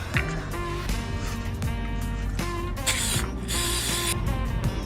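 Two short bursts of hissing aerosol spray, cleaning a car engine's valve cover area during a gasket replacement, cut through nearby mechanical creaking and clattering.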